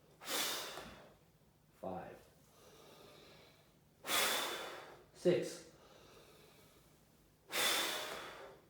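Deep, drawn-out breaths during a tuba class breathing exercise: four long rushing inhales or exhales spaced a few seconds apart, close and fairly loud, with a short sharp snort-like breath between them and a voice counting aloud.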